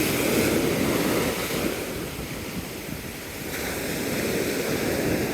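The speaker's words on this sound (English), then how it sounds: "Higher waves." Ocean waves on Navarre Beach at low tide on a sunny morning with medium wind, a steady broad wash of surf and wind noise rolling continuously, fairly loud with no voices.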